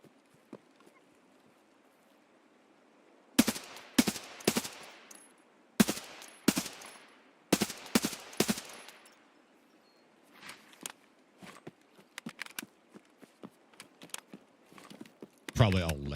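Gunshots in a first-person shooter game, sharp loud single cracks and short clusters fired close by, separated by quiet gaps, followed later by fainter scattered shots and clatter.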